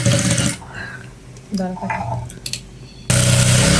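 A sewing machine stitches a uniform shirt in dense, steady bursts at the start and the end, with a quieter stretch of talking and light handling in between.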